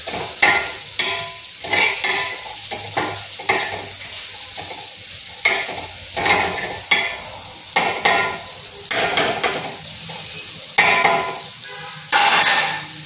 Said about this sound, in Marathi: तर यामध्ये हा कांदा घालूया. आणि कांदा पण चांगला कणी भाजी द्यायचा यामध्ये.